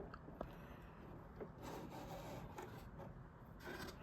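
A toy Castle Grayskull elevator from Masters of the Universe runs through a test with a soft, continuous plastic whirring and rubbing, punctuated by faint clicks, quiet and close.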